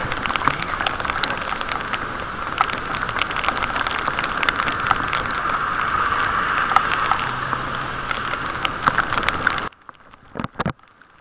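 Steady rain pattering hard on a surface for several seconds during a bike ride, recorded through a waterproof case, then cutting off abruptly, leaving a few scattered clicks.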